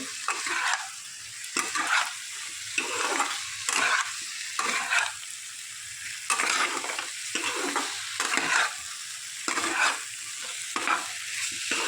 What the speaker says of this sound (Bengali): সয়াবিন ভাজাগুলো দিয়ে দিলাম, দিয়ে বেশ ভালো করে নেড়ে চেড়ে মিক্স করে নিতে হবে।